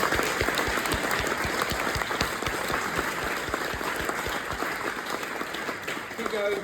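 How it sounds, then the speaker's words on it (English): A large audience claps in sustained, dense applause for the Cardiff and Vale Pop Ensemble after their performance, steady and close throughout with a few brief voices mixed in. "Can we please give a massive round of applause to the Cardiff and Vale Pop Ensemble?"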